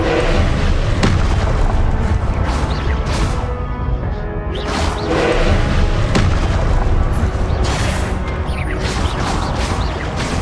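Confringo blast spells explode in the video game Hogwarts Legacy as loud, heavy booms burst repeatedly over a dense, continuous roaring rumble, with no pause between blasts.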